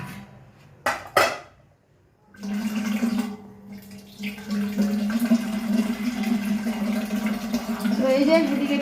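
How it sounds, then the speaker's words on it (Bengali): Water runs into a filling water tank after a couple of short knocks, settling into a steady gushing stream whose tone gradually rises as the tank fills. "ভর্তি হয়ে গেছে ট্যাঙ্কিটা তোমার জলটা পড়ুক"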